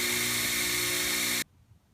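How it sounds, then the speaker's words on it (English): Wire wheel spinning against truck parts during a 1974 Ford F100 restoration, a loud, steady high grinding whir that cuts off abruptly near the end, leaving near silence. "I'm just going to take it to the wire wheel and clean them up"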